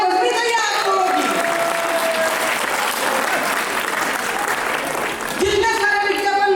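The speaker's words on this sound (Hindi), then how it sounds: "तालियां बजनी चाहिए आप लोगों की।" A crowd applauds at a poetry recital (kavi sammelan) in Khariar, a dense, steady wash of clapping lasting several seconds, with a voice speaking before it swells and again as it fades.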